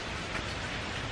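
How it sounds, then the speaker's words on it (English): Steady, dense rain from Hurricane Irma in Orlando hisses continuously, an even wash of noise with no voices or breaks. "Right now, all we are experiencing in Orlando is rain"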